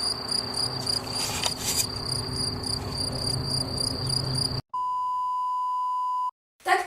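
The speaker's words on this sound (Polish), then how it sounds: "dla których słyszeliście tutaj tylko świerszcze" Steady cricket chirping sound effect over a noisy outdoor background, then it cuts to a loud, continuous electronic tone that stops abruptly.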